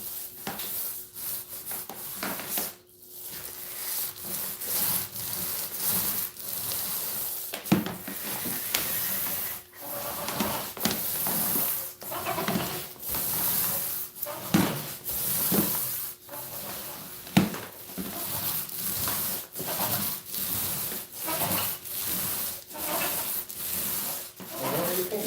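Hands rub and smooth a 135-inch black projector screen with repeated close swishing strokes in an irregular rhythm, soft friction scrapes following one after another.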